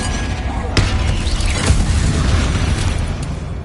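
A Bombarda spell explodes in Hogwarts Legacy with a sharp, loud blast that gives way to a rumbling, crackling decay over steady low background noise.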